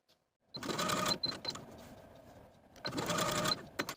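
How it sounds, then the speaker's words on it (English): Sewing machine stitching along drawn lines to reinforce fabric corners on a top, two short close bursts of rapid needle chatter separated by a quieter pause. "I'm going to use the lines that I drew as my stitching guide to reinforce these corners on both sides"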